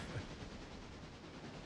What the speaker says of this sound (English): So this train here is driving unattended.